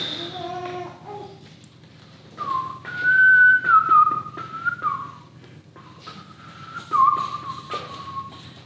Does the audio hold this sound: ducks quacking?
no